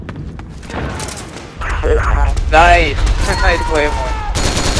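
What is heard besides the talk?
gunfire in Metal Gear Online video game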